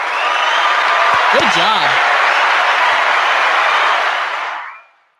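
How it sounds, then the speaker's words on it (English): A canned applause sound effect plays on a livestream, a loud, dense burst of clapping that holds steady, then fades out quickly at the end, with someone briefly speaking over it. "Hit the applause, man"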